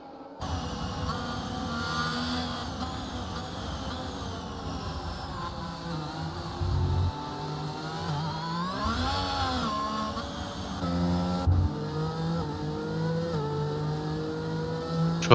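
Race cars in a Grand Prix video game whine through engine revs and gear changes as they enter the pits, the engine tones rising and falling continuously at a moderate level.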